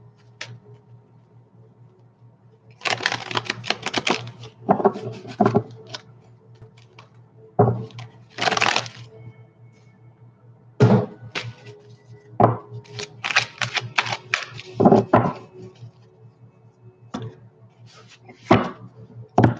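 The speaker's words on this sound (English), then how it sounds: "I'm going to shuffle for a minute" Bursts of crisp tarot card riffling and clacking, close by, coming in irregular clusters separated by brief quieter pauses, with a low steady hum underneath.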